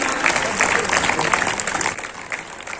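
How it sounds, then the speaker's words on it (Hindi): A seminar audience claps together in a steady, dense burst of applause that carries on throughout, loud and close. "तालियां बजाकर आप सभी इस स्वागत सम्मान"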